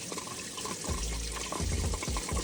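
Coolant draining from a Jeep into a tub, a close liquid pouring and splashing sound, steady and moderately quiet, with no talk.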